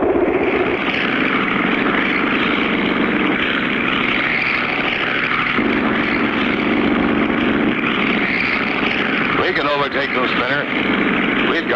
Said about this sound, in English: Hey, Foxy, that bobtail flying machine is catching up with us.